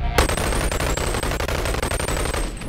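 Rapid continuous assault rifle fire in the VR game Boneworks, loud and close, a dense unbroken burst of shots lasting nearly three seconds.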